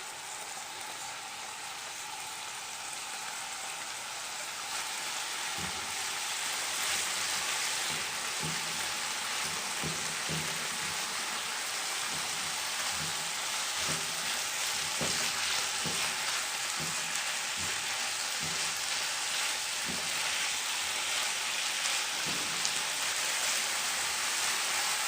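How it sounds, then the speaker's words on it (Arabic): Minced garlic frying in a pan for Egyptian-style chopped liver: a steady, close hiss of sizzling oil that swells louder after a few seconds, dotted with small crackles and pops and no voices. "فرمت الثوم ودلوقتي انزل بيه"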